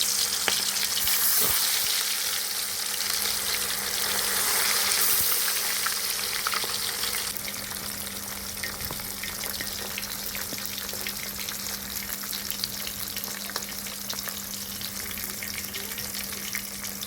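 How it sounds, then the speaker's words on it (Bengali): Pieces of fish fry in hot oil in a wok, a steady, dense sizzle and crackle that carries evenly throughout with occasional stirring clinks, no voices. "এখন আমি মাছগুলো সুন্দর করে তেলের মধ্যে দিচ্ছি"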